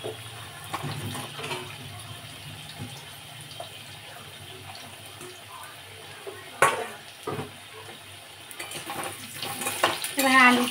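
Potatoes fry in a pan and a utensil stirs them, giving intermittent close scraping over a low continuous sizzle, with louder clattering strokes near the end.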